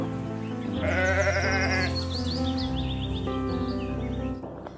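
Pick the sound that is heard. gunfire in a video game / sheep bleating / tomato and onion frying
sheep bleating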